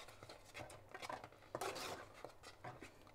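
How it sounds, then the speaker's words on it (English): Tablespoon stirring sticky molasses into a fruit-leather mixture in a bowl, with repeated close scraping and clinking strokes in an uneven rhythm, no talking. "And I just use that tablespoon to mix it."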